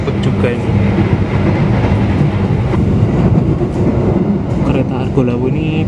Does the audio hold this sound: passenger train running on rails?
yes